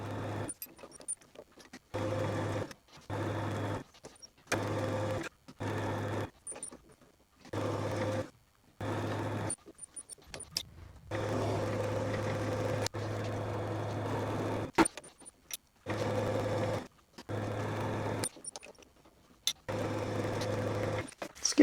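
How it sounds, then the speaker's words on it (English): A lathe single-point cuts a thread for a micrometer screw for a Quorn Mk3 tool grinder, its steady machine hum rising in about a dozen repeated cutting passes separated by short quiet gaps. "Now I'm going to single point cut the thread."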